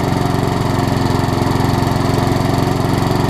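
An old Garden Pride lawn mower engine runs steadily at a rough idle, close and loud, with a continuous rhythmic chugging throb and no talk over it.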